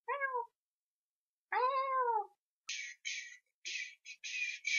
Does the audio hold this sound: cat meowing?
yes